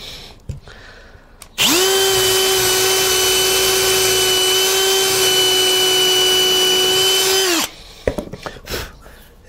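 A power drill runs steadily for about six seconds, driving a screw into a carved wood panel, a loud continuous whine with strong harmonics that starts abruptly and cuts off, with quiet workshop handling noise before and after.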